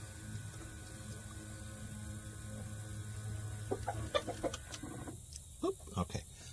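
Chickens in a coop beside an automatic, solar-powered, soft-closing door give short, soft clucks and a few brief calls in the second half, fairly faint over a low background hum.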